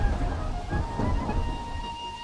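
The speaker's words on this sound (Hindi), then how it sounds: "बारिश तेज हो रही है" Heavy rain pours steadily through a stormy night, with a low rumble of thunder rolling underneath, a continuous close wash of sound and no voices.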